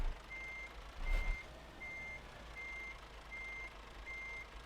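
Truck reversing beeps in Euro Truck Simulator 2 sound as six evenly spaced electronic tones over a low engine rumble, with a brief louder whoosh near the start.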